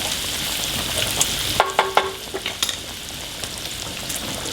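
Chicken carbonara ingredients crisp in a hot pan under a loud, dense sizzle, with a brief cluster of metallic clinks and scrapes from a utensil partway through.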